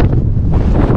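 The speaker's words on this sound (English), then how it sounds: "But it is super windy up here." Strong wind on a high mountain ridge along the Four Pass Loop roars and buffets the microphone in a loud, continuous, close rush with no voices.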